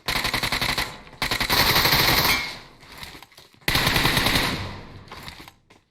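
Gunfire from an AMR sniper rifle in the video game PUBG comes as long, loud, rapid bursts of shots close up, separated by brief gaps.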